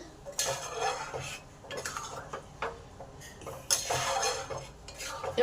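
Pancharatna dal, a mixed five-lentil dish, being stirred and mixed in a pot with a spoon, giving repeated scraping clinks and clatters of metal on cookware at close range, with no talk.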